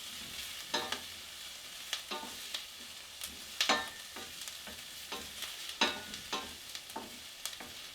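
Onions frying in a pan for an Italian spaghetti meat sauce while being stirred, with a steady close sizzle broken by repeated scraping and stirring strokes and no talking.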